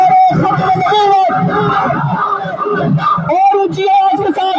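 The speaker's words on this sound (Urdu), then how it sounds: "ہاتھ بلند کر کے اونچی آواز کے ساتھ نعرے کا جواب دیں" A large crowd at a street rally chants a religious slogan back in loud unison, voices sustained and overlapping, with shouted calls and whoops mixed into a dense, continuous roar close by.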